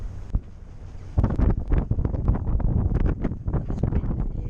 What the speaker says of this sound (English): This wind is pretty horrible. I don't envy anybody going out today with this easterly.